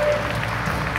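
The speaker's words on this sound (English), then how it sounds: "Let's keep cheering." A church congregation at a live-streamed service claps and cheers, a brief, dense wash of steady applause filling the room with no distinct voices standing out.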